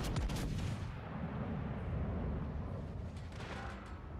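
Naval gunfire in World of Warships Legends: a dense, heavy barrage of deep booming shots opens sharply, then rolls on as continuous low rumbling fire that stays loud throughout.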